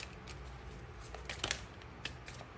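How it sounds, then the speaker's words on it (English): Soft, uneven papery riffling and light clicks of tarot cards being shuffled, quiet and close, with a few sharper slaps. "that is just me shuffling pretty badly"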